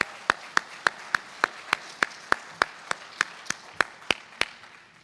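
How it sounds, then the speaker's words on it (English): Slow, evenly spaced clapping at a neighborhood poster contest awards ceremony, sharp distinct claps in a steady rhythm, fairly close and clear, as if only one or a few people are applauding. "Let's give him a big round of applause."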